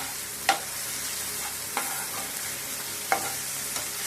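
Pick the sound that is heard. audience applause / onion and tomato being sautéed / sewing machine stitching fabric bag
onion and tomato being sautéed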